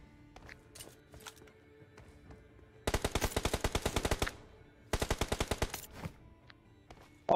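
Automatic rifle fire in the PUBG Mobile battle royale game rattles out in two loud, rapid bursts of about a second and a half each, with quieter game noises between.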